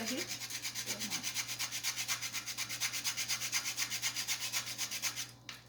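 Nutmeg being grated by hand for a Jamaican fruit cake, a rapid, even rhythm of scratchy rasping strokes, close and fairly quiet, with no talking.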